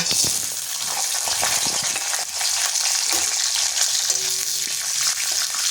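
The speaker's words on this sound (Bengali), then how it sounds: "তেলটা গরম হয়ে গেছে, এবার আমি প্রথমে বাদামটাকে ভেজে নেব।" Peanuts fry in hot refined white oil in a pan, a steady close sizzle and crackle running throughout with occasional stirring clicks and scrapes, no voices.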